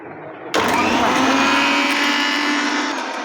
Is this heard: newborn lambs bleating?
no